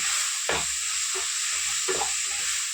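A spoon stirs chili, coriander and pepper powder in a pan for a vegetable Maggi, giving a few distinct scraping strokes over a steady bright sizzle, close and fairly loud, with no talking.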